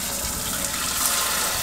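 Water from a recirculating shower in a camper van runs in a steady, even hiss, continuous and close throughout, with no voices.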